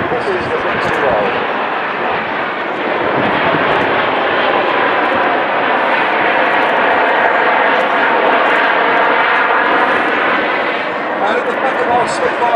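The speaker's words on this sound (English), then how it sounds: "Ladies and gentlemen, in respect of the sacrifice of the people, this is the victory roll." Red Arrows jets flying a victory roll trailing red, white and blue smoke at a Jersey air display: a loud, sustained roar of jet engines fills the whole stretch, with an announcer's voice over it.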